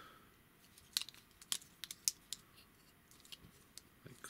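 Plastic legs of a Transformers Titans Return Rewind toy are flipped and repositioned, several sharp clicks and snaps spaced irregularly, close and quiet, with no talking.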